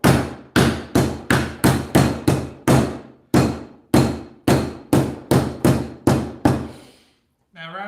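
A hammer pounds round steak to tenderize it for a breakfast bowl, about fifteen hard, evenly spaced thuds close up, each ringing briefly, then a short pause and a faint final sound.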